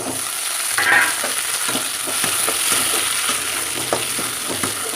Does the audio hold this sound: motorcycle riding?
no